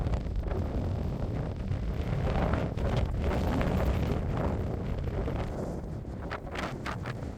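Gusty wind buffets the microphone outdoors beside a lake at the Prince of Wales Hotel in Waterton Lakes, a steady broadband roar rising and falling with fainter rustling bursts throughout, no voices.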